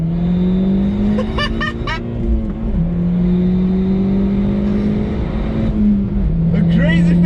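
An Audi A1 quattro engine roars loudly and close, pitch climbing through gear changes with brief drops between, and a voice talks over it; wheels still spin in third gear.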